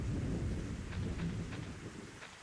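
Rain and rumbling thunder in the .hack//fragment video game, a steady low roar of rainfall with faint taps on top, quiet and distant.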